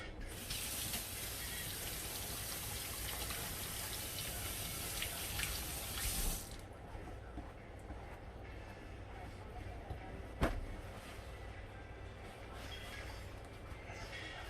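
Carrots are rinsed under a running kitchen tap, a steady close hiss of flowing water for about six seconds before it shuts off, followed by quieter kitchen sounds and a single sharp knock.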